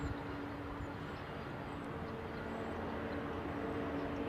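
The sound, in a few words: Virgin jet airliner taxiing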